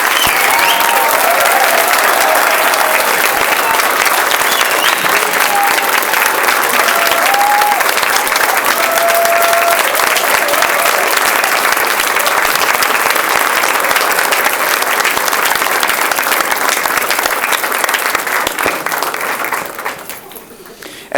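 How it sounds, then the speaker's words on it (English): A school event audience gives a long, loud, sustained round of applause for the speakers, dense clapping filling the room before tapering off at the end. "Can we get another round of applause for all of our speakers?"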